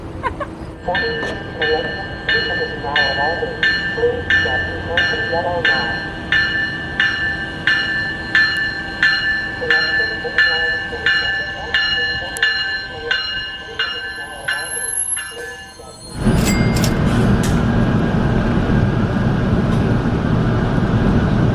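A Chicago electric transit train rides along, its wheels clicking in a regular rhythm over the rails under a steady whine, until a sudden louder rushing rumble takes over near the end.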